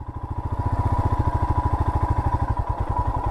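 A Royal Enfield Himalayan adventure motorcycle idles nearby while turned at full lock, its single-cylinder engine thumping in a steady, even pulse with no voices.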